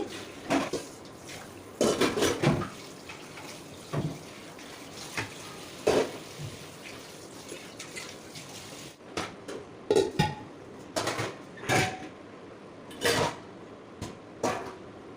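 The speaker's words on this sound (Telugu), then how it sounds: "ఇక్కడ వచ్చేసి గిన్నెలు అయితే క్లీన్ చేసేసుకుంటున్నాను" Dishes and pots being washed in a kitchen sink: running water under repeated clanks and clatters of metal vessels and utensils, close and irregular, with no one speaking.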